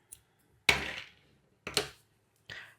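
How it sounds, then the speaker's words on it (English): Scissors snip through crochet yarn after a chain stitch, a few sharp crisp cuts, close and alone in a quiet room. "and cut my yarn."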